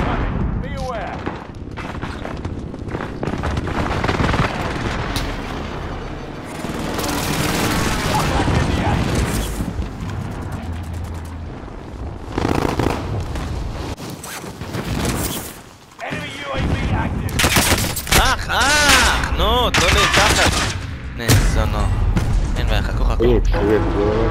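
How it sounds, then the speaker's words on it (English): An allied precision airstrike in a video game brings heavy booming explosions and bursts of gunfire, loud and sustained, with players talking throughout. "Allied precision airstrike"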